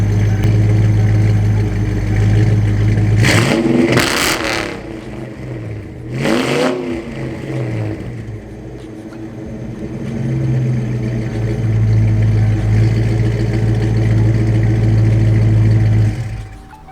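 A 1995 Mustang Cobra V8 rumbling loudly nearby, blipped through two sharp revs that rise and fall, then settling back into a steady, burbling idle.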